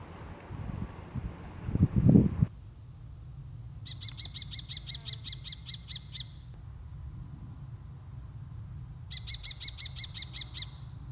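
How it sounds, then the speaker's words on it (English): Young kestrels in southern Portugal beg for food from an adult, giving two bursts of rapid, evenly repeated shrill calls with a pause between, heard close against a low background rumble. "a family party of kestrels with about 4 young, which allowed incredible views while they begged for food from the adult"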